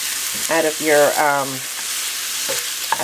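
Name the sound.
sautéing food for meatball soup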